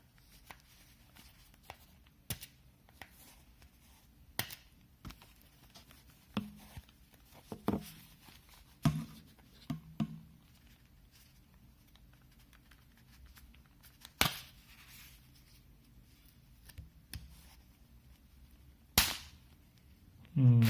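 A plastic ring is worked at on a Beyerdynamic DT 770 headphone ear pad, giving sparse, sharp plastic clicks and snaps spread over a long quiet stretch, with faint rustling and brief voice between them.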